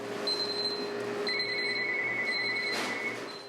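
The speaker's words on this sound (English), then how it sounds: "With timers going off and the phone ringing for special orders" A bakery kitchen timer goes off with a steady run of high electronic beeps, shifting pitch partway through, clear and close over a low hum of kitchen background noise.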